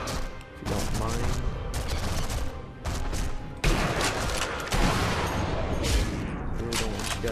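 Gunfire from enemy soldiers in Sniper Elite V2 crackles in dense, overlapping bursts throughout, loud and continuous with brief lulls, mixed with game noise and faint voices underneath.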